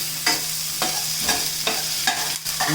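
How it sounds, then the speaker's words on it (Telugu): Onions frying in a pan for a stuffed ivy gourd masala curry, with a steady close sizzle and five or six evenly spaced scraping strokes as a spatula stirs them, with no talk. "ఇప్పుడు కొంచెం వేగినాయి కదా ఉల్లిపాయలు"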